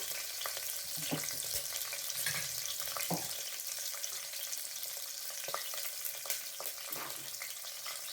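Chopped ginger and garlic frying in a pan, cooked for a Telugu millet pongal with ridge gourd: a continuous close sizzle with scattered clinks and scrapes of stirring, and no one talking.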